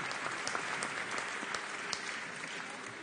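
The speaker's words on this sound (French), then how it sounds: "Oh, allez, on l'applaudit." A large audience at the Ballon d'Or ceremony gives sustained applause, a dense, even wash of many hands clapping heard from a distance, with faint voices beneath.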